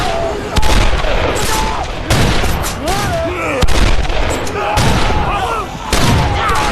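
Shotgun fire during a zombie attack scene in a TV drama, several sharp blasts spread across the scene amid loud chaotic noise and shouting voices.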